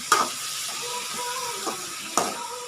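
Onions sauté in a pan for chicken gravy, a steady close hiss and sizzle with a few sharp spatula knocks against the pan.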